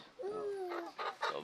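A four-month-old Rhode Island Red chicken gives a drawn-out nasal call close by, followed by a few short soft clucks, faint against a quiet background.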